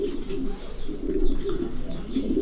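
A flock of breeding pigeons in their loft fills the air with steady, overlapping low cooing, loud and near, swelling slightly in places.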